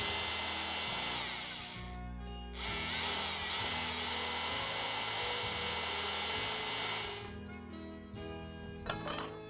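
A power drill drives the last bolt into a log post on a log stairway landing, a loud steady whine that surges and dips as the bit bites, then cuts off near the end.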